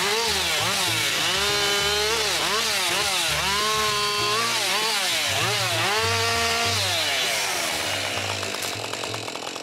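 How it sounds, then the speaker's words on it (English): A chainsaw or powered cutting equipment works through big spruce timber outdoors on a wooded property, a loud continuous engine drone rising and falling in pitch as it bites into the logs, with no talk. "enjoy the sounds of the equipment and watch us cut what we would consider some pretty big timber from this property"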